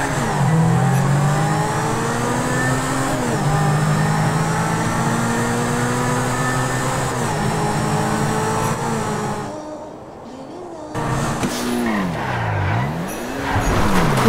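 A Grotti Cheetah supercar engine in GTA 5 revs loudly and continuously up and down through the gears, with a brief dip in power midway before climbing again, heard alone without talk.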